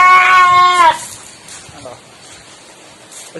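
A goat from a livestock sale lets out one loud, close, wavering bleat lasting under a second, followed by quiet background rustle and faint murmuring.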